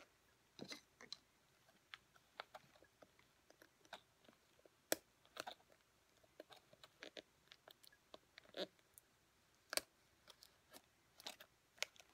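Sharp scissors snipping through paper for an altered book project, a run of quick crisp cuts and clicks at close range, irregular in rhythm and fairly quiet, with no talking.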